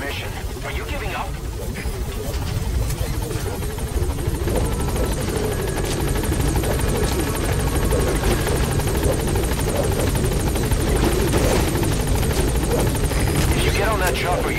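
Helicopter in Metal Gear Solid V hovering at a landing zone, a loud steady rotor thrum and engine whine that carries through the whole stretch, with radio-style voices speaking over it.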